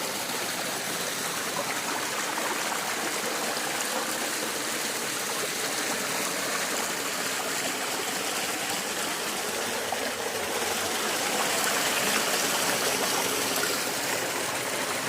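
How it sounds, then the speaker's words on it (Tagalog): Natural hot spring water flows in a steady, continuous rush close by, with no voices. "hot spring water o isa sa pinagmamalaki dito sa aming lugar na natural spring water"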